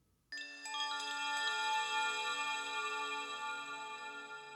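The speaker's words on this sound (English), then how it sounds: "For this mystical forest setting, I thought wind chimes works especially well to set the mood." A single bright chime rings out clear and close, its shimmering metallic overtones sustaining and slowly fading, set against a mystical forest scene with no voices.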